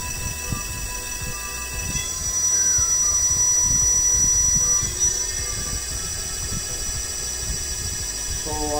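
A 12-inch 1200W electric hub motor spins steadily, its electric whine and tonal hum rising slightly before holding level near the 500 RPM cutoff, with a faint rolling rumble underneath.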